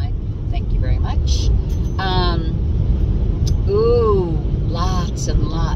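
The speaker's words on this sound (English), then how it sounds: "car heading toward me in my lane trying to pass the semi" A car passes close by on a two-lane Mississippi highway while overtaking a semi truck, a broad whooshing roar rising and fading within a few seconds over steady road noise, with a person talking throughout.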